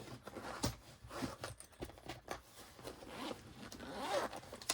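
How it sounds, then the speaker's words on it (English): A zipper is pulled open in several quick, raspy strokes, close and crisp against a quiet background. "when you open it, this part actually is a zipper part."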